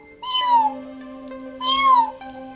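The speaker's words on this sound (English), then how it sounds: "I got kitty sound effects" Two distinct cat meows from the video game Arcade Spirits, each a clear rising-then-falling cry, close and crisp, separated by about a second of quiet with a steady faint tone underneath.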